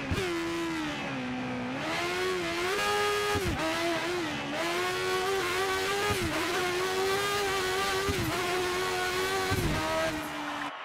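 Classic 1980s-era Formula 1 car engine from F1 2013's Classic GP mode, racing at Silverstone or the Nürburgring, screams continuously near and loud, its pitch dipping and climbing through repeated gear shifts and revs.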